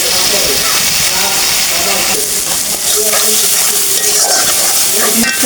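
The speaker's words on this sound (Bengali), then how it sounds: "মশলাগুলো এখন আমি কষিয়ে নিচ্ছি" Spice paste with water for chicken curry frying and sizzling in a pan, a steady loud hiss with stirring scrapes throughout, close to the listener.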